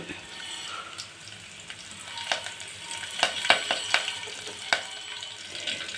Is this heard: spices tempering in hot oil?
yes